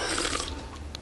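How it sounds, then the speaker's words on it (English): A boy's loud, gurgling burp in a family burping contest, a single croaking belch lasting about a second, close and alone. "We're having a burp contest, Mom."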